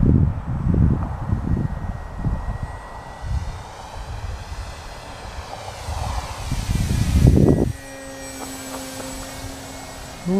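An E-flite Timber RC airplane flies with a steady engine drone that swells and fades as it passes, heard outdoors under gusty wind buffeting the microphone, with brief tonal beeps near the end.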